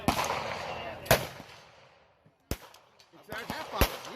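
Several loud, sharp gunshots from a .460 Smith & Wesson revolver at an outdoor range, spaced unevenly with ringing decay between blasts, while people talk nearby.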